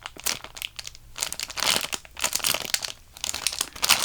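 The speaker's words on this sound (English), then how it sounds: "Here we have the Angel chocolate cake with very crinkled packaging." Crinkled plastic packaging on a chocolate cake squishy toy crackles and rustles as it is handled up close, in irregular bursts of sharp crinkling with short pauses between.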